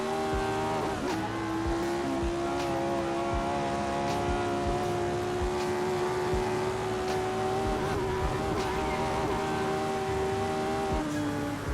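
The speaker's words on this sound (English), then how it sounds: "Downshifting as we go into the first significant braking period." A 1960s Formula 1 race car brakes and downshifts, its engine note held high and steady near the listener with repeated sharp blips and clicks of gear changes over a continuous roaring drone.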